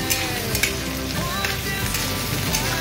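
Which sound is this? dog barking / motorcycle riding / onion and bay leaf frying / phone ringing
onion and bay leaf frying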